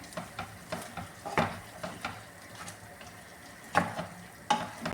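Home-ground garam masala being stirred into a chicken biryani masala base in a pan, heard as scraping stir strokes at an irregular rhythm over a soft sizzle, with a few louder clinks of the spoon against the pan.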